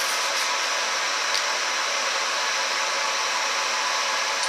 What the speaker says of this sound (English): Now you can hear the laser came on and it is a little bit louder now.